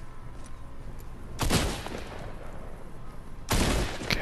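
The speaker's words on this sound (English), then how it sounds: "Okay, I'm getting shot at." Gunfire in Fortnite solo mode, two loud bursts of rapid shots a couple of seconds apart, cutting sharply over a quieter background of game ambience.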